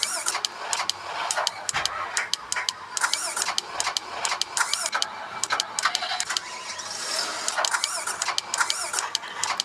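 A steady mechanical tractor engine hum from Farming Simulator 18 with rhythmic clicking and rattling throughout, loud and continuous, like a heavy motor running close by.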